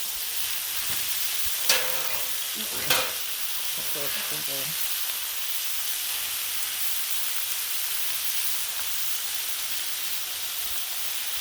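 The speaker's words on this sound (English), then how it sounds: "We got our bacon going." Bacon fries on a flat-top Blackstone griddle with a bright, steady hiss that runs for the whole stretch, broken only by a couple of sharp clicks early on, with no speech.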